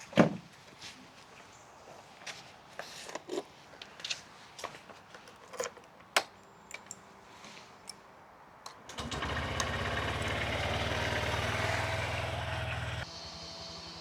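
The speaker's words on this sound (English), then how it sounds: "And now we need to switch our engine on." A Honda CB125F motorcycle sits through scattered clicks and knocks at first. Then its small single-cylinder engine starts and runs at a steady, close idle for several seconds before cutting off abruptly.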